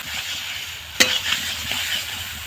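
Potatoes stirred and mixed with spices in a hot pan, a soft continuous sizzle broken by one sharp scrape or clink of the utensil and a few lighter scraping strokes, close and alone.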